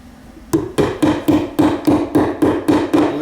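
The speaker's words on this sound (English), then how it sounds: "I'm going to go ahead and staple these up to the center of the stud" Nine sharp hammer blows in a steady rhythm, driving staples into the center of a wooden wall stud to hold electrical wiring for kitchen recessed lights, each strike close and loud with a brief ringing tail.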